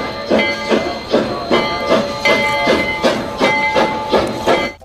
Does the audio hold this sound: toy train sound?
yes